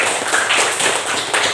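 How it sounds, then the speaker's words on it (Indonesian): A class of elementary school pupils clapping their hands together, a short burst of close, fairly loud claps with a few sharper individual hits near the end. "Tepuk tangan buat kita semua."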